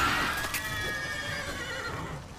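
A horse in The Witcher 3 video game neighs loudly and close by, one long shrill whinny that wavers and falls away over a couple of seconds, with faint hoof sounds beneath.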